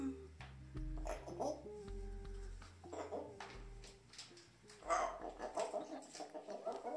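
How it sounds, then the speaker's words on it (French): An African grey parrot named Gribouille calls and chatters during a courtship display, bursts of harsh clucking and squawking notes close by, with a person talking alongside. "ma Gribouille, tu parles et t'es en pleine parade hein"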